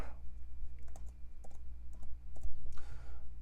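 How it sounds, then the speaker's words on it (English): Quick, light taps on an iPad Pro keyboard in a home office, a short burst of close clicky keystrokes with small pauses between them, no talking. "let's type in YouTube Studio"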